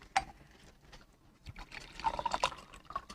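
Drinking water poured into a glass or cup during a Cebuano-language TV drama scene, a short, fairly close splash and trickle that rises for about a second amid faint room noise.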